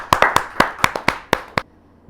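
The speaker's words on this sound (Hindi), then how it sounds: "जहाँ जोरदार तालियों के साथ प्रियंका राय।" Clapping at a Hindi poetry gathering, about ten sharp, evenly spaced hand claps that sound close and distinct, then stop abruptly into quiet.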